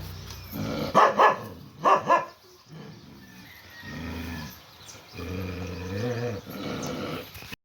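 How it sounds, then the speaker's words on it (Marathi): Three stray dogs fight over territory, barking sharply and growling and snarling in deep, rough bursts. The dogs are loud and close, with no talk. "नित्यनियमाने येणारे हे तीन कुत्रे आणि एकाचंही घर नाही आहे पण जागेवरून यांची इतके भांडणं ना बघा"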